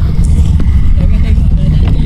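A boat engine runs steadily close by during a kayak fishing trip in Malaysia, a continuous low rumble filling the whole stretch with no clear change in pitch.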